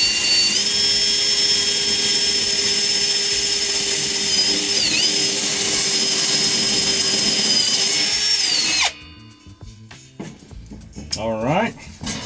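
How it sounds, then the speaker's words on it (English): A step drill bit on a power drill bores through material for a DIY live-streaming rig build, a loud steady whine for about nine seconds that stops abruptly, followed by quieter handling noises. "I'm going for 2 steps on the drill bit."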